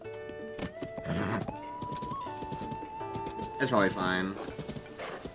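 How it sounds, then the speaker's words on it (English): Horse hooves clip-clop steadily in a fantasy video game as a mount is ridden, with neighing and game music layered underneath while a person talks over it. "Should we even go by horse?"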